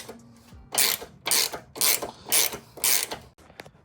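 A fitting being tightened with a 19mm wrench, heard as five evenly spaced, close ratcheting strokes, each a short, loud rasping burst with brief pauses between them, and no talking.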